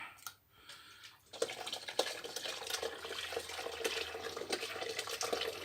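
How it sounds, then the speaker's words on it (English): Home-grown plum cider pulp is poured back from one vessel into another, a steady splashing gush that starts after a brief knock and runs on without a break, close by. "So I guess what we can do now is pour it back the other way."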